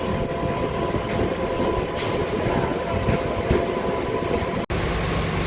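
A MEMU local train sits at Miryalaguda railway station on platform 1, its steady low rumble and hum filling the air throughout, with a brief sharp dropout near the end.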